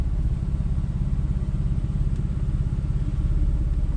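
A 997.2 Gen 2 Porsche 911 Carrera S Cabriolet with PDK gearbox idles with its sports exhaust switched on, a steady, close, deep burbling rumble with an even pulsing beat and no talk.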